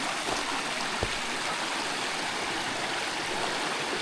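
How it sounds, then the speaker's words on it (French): A small waterfall with little water, the Cascade du pétroglyphe, gives a steady even rush of falling water filling the air, constant and fairly loud with no voices. "C'est une petite cascade."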